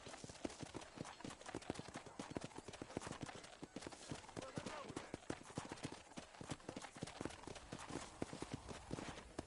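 Steady clip-clop of horse hooves trotting at an even pace in the video game Red Dead Redemption, continuous and fairly quiet, with a dense, busy rhythm throughout.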